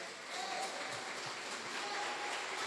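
A church congregation claps together in sustained, even applause, fairly soft and slightly distant, with a faint voice in the background.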